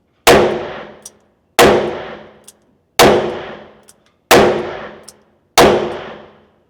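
Five loud shots from a Smith & Wesson 637 revolver chambered in .38 Special, evenly spaced about a second and a quarter apart, each a sharp crack followed by a ringing, decaying echo.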